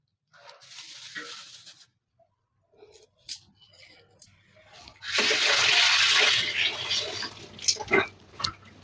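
Green chillies are washed by hand in water, heard as sloshing and rubbing, with a fuller splashy stretch near the end and light handling clatter before it.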